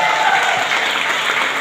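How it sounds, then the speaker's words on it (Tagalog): Audience applause at a Filipino pageant-style show in Dubai: a dense, steady burst of hand clapping from a crowd, loud and close, filling the short moment without speech. "wala po bang palakpakan dyan?"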